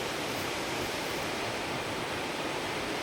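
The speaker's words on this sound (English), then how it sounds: "It's one of the highest waterfall, guys." Waterfall in Embu County, Kenya, one of the highest there: a steady, dense roar of falling water, loud and unbroken throughout with no voices.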